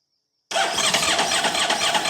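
A Honda motorcycle engine with an unplugged sensor and a flashing engine-management light cranks and catches after a half-second of silence, then runs loud and close in a dense, rough roar for the rest of the clip.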